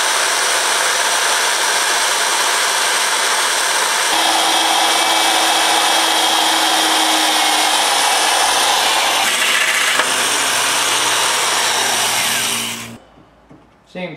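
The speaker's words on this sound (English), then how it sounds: "So we're going to drill a hole here and here." A power drill bores holes into the steel rear frame hoop of a GS550 cafe racer motorcycle, a loud steady whine that runs continuously for about twelve seconds, shifts pitch partway through, then cuts off abruptly.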